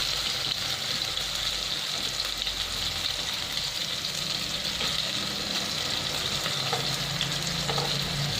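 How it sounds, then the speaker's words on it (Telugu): Soaked soya chunks (meal maker) and tomato sizzle steadily in hot oil in a pan for veg pulao, a continuous close frying hiss with faint stirring. "ఇది ఆయిల్లో మంచిగా ఫ్రై కావాలి"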